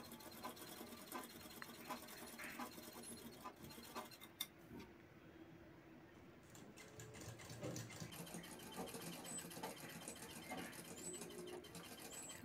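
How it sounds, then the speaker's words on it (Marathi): A sewing machine stitches the side of a fabric bag with a rapid, steady mechanical chatter, briefly pausing partway through before running on, close and fairly quiet, with no talk. "आपल्याला दुसरी साइड ही अशाच पद्धतीने शिवून घ्यायची आहे"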